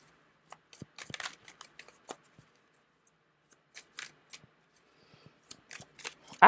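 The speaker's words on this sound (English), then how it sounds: "I'm sitting here shuffling" Tarot cards being shuffled by hand, heard as soft, scattered riffles and flicks in irregular bursts with quiet gaps between them, close and fairly faint.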